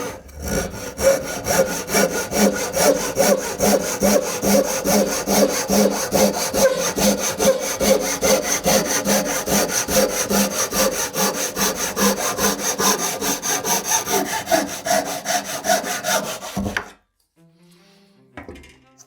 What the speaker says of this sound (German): Jetzt zeige ich das einmal mit einer feinen japanischen Säge.